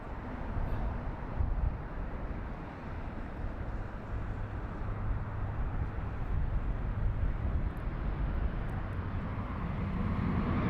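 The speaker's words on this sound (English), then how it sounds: "Dreamliner" A Boeing 787 Dreamliner at Heathrow Airport sends out a steady, broad jet roar that holds throughout, with constant rumble and airy wind texture but no distinct events.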